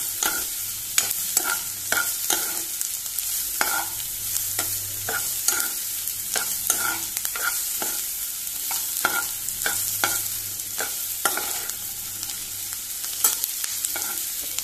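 Onion and tomato masala frying in a little oil, with a soft continuous sizzle broken by frequent rhythmic scrapes and knocks of a spoon stirring the pan, with no voices.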